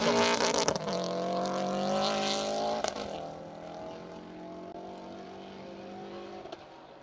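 A Subaru Impreza rally car, number 412, flat out on a stage of the Plains Rally 2023, roars past nearby and then fades steadily into the distance, its engine note gradually drifting lower.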